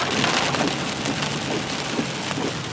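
Heavy rain pours steadily against studio windows, a dense continuous wash of drumming drops, loud and close, with no pauses.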